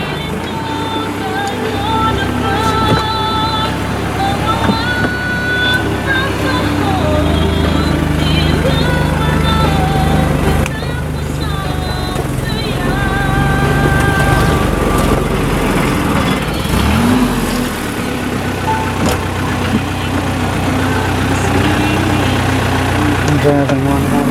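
A car engine runs steadily while driving along a road in the Philippines, a continuous close rumbling drone with shifting pitch as it speeds up and slows, lasting throughout with someone talking over it.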